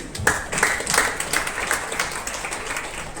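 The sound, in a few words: audience applause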